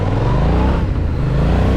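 A Yamaha MT-07 motorcycle engine revs steadily up close on a mountain ride, a loud continuous throttle blip with a deep low hum and no talking.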